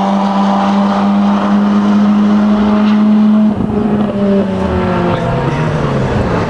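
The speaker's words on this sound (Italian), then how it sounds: "Che macchina sta arrivando di la chicane?" Racing car engine droning steadily on approach to the chicane at the Castrezzato circuit, a loud sustained tone that drops sharply midway as the driver lifts off, then lower revving and gear changes follow.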